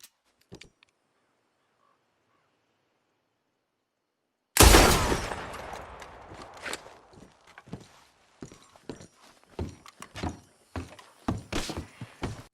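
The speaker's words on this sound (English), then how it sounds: "So he'll shoot this lantern in his honor." In Red Dead Redemption 2, John fires a gun at a lantern: near-silence breaks into one loud, sharp blast with a ringing tail, followed by scattered knocks and hoof-like clops.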